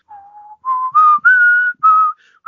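A person whistles a short melodic phrase from the Mr. Show TV theme, five or six clear, sustained notes stepping upward, loud and close with no other sound.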